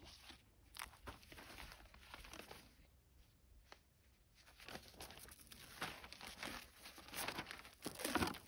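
A plastic bag crinkles and rustles up close as it is wrapped around a walnut graft on the main trunk, giving irregular crackling bursts that swell louder toward the end.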